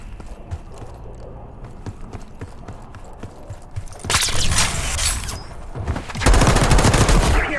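Gunfire rattles in Call of Duty: Black Ops 6, starting with faint distant ticking shots and building into loud sustained bursts of automatic fire in the last half.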